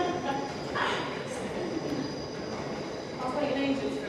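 A train rumbles past nearby with steady rolling rail noise and faint wheel squeal, while people talk quietly in the background.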